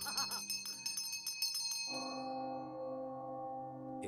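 A golden bell rings out with a bright metallic strike, followed by a run of quick light chimes, then a sustained, clear ringing tone that slowly fades.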